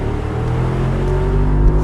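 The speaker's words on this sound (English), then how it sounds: "This 4-liter V8 has always sounded great" Mercedes-AMG SL's 4-liter V8 engine, 2022 model, revving up with a steady, loud, building drone that swells slightly toward the end, heard up close with no talking.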